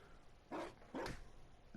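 A dog in the video game Dragon Age: Inquisition gives two quick barks, then starts a third, fairly faint over soft background ambience.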